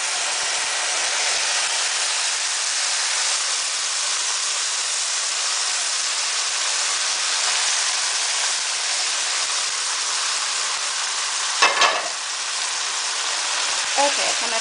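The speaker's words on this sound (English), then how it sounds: "now I'm going to stir in the meatballs and also the juice." Steady loud sizzling and hissing as meatballs and juice are stirred into a bubbling walnut stew, Khoresht Fesenjan, with a brief clatter of stirring near the end.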